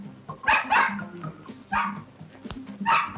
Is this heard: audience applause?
no